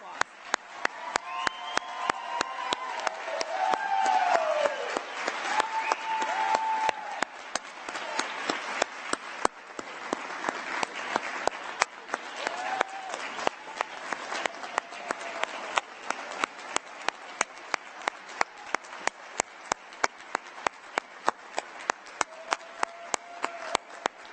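Graduates at a nursing pinning ceremony receive a long round of applause from the audience, with steady crowd clapping, occasional cheers, and loud individual claps close to the microphone throughout, along with scattered voices.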